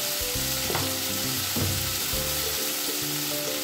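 Bitter gourd, potato and bori frying crisp in oil sizzle steadily, with repeated stirring scrapes and clinks through the hot fry.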